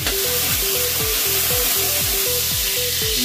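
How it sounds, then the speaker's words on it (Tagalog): Garlic sautés in hot oil in a pan for chop suey, giving off a steady, loud, even sizzle. The sizzle runs unbroken beneath a rhythmic, repeating backing melody. "Gisa natin yung bawang."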